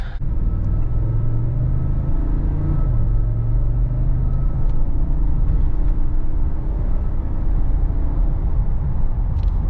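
A 2016 GMC Yukon XL Denali's 6.2-liter V8 at 163k miles runs steadily with a low, even rumble and a slight pitch shift early on, close and continuous with no talk.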